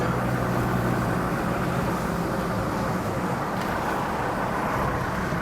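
A Land Rover Defender cruising onto a main carriageway at around 50 mph, with a steady broadband road and engine roar heard from inside the cabin that stays constant, and no talking.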